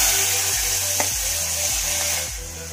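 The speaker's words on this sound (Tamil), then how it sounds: "வெங்காயம் போட்டோமா இப்போ சிவரும் வறுக்கலாமா" Sliced onions sizzling steadily in hot oil in a pan for barracuda fish curry, a loud continuous fry with faint stirring scrapes now and then.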